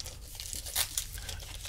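Packing tape being torn and crumpled off a heavily wrapped package, close up, with steady crinkling and two brief louder ripping bursts.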